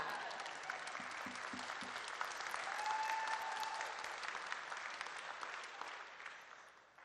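Loud, sustained applause and cheering fill a hall for a graduate at a university convocation in Thunder Bay, steady throughout and tapering off near the end.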